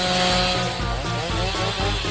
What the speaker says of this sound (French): Ah oui, une tronçonneuse.